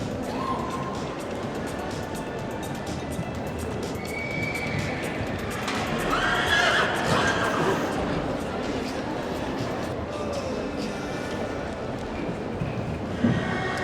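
A horse whinnies loudly at a horse sale, a long rising and falling neigh at mid-clip, over constant background noise with a voice talking now and then.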